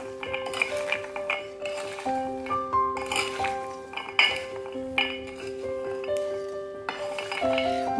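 Almonds tumbling and clinking against a bowl as they're tossed with seasoning, a steady run of small clattering ticks and rings, close and fairly loud, with brief quieter pauses between bursts of stirring.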